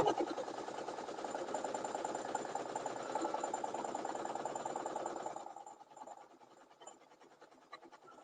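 Home sewing machine running a satin stitch, a steady fast mechanical whir with rapid needle ticking for about five seconds, then stopping and leaving quieter ticks and faint handling noises.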